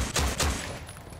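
Gunfire in the zombie shooter No More Room in Hell: two quick, heavy shots in rapid succession, close and punchy, fading into a short tail.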